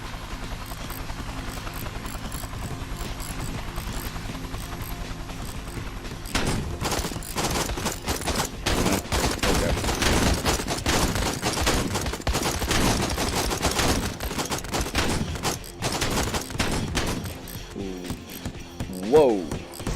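Rapid bursts of gunfire in a shooting video game, a clicking mechanical stretch giving way to dense, loud volleys and repeated sharp shots with no talking.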